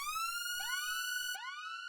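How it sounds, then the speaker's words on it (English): A synthesized siren for a footwork drum track rises and falls in repeated upward sweeps, with a slow ping-pong delay echoing each tone in a steady, fairly quiet loop. "that is it for the siren. It's a pretty simple sound"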